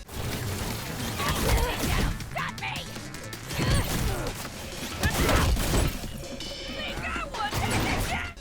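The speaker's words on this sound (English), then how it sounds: "And here's what the melee sounds like." Melee attack effects in an NFT action game on Steam: a series of swishing swings and dull smacking hits in bursts, mixed with game noise and a faint voice.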